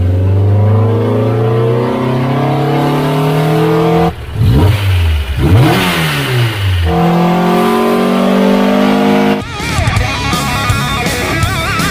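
A fuel-injected Datsun Stanza rally car with a built L20B engine revs loudly on a dyno, its pitch climbing and dropping through several sharp sweeps before settling into a steady, close, throaty drone, with no talking.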